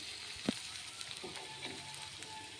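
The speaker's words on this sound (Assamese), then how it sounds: "পিঁয়াজখিনি ধুনীয়াকৈ দি পেলাই আমি ভাজি লওঁ।" Sliced onions frying in a pan for a Dhekia fern and egg bhaji give a soft, steady sizzle, fairly faint, with one sharper knock from the pan early on and no talking.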